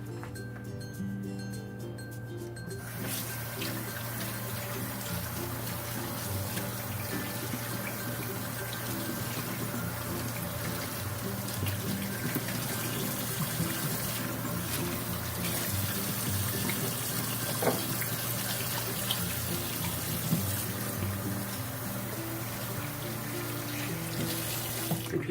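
Water runs steadily from a kitchen faucet while hands are washed during roast chicken preparation, a loud continuous rushing stream with faint clinks.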